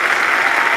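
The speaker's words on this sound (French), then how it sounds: "Je demanderai au public d'appuyer sur la touche F encore une fois pour qu'on se quitte sur une salve d'applaudissements." Applause from an online audience triggered by pressing a key, heard as an even, uniform wash of clapping with a faint crowd quality and no speech.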